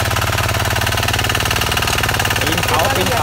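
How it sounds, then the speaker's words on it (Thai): A mini tractor mower's small engine rumbles steadily up close in first gear, then its pitch climbs slightly as it's revved near the end. "พอเร่งเครื่องเข้าไป"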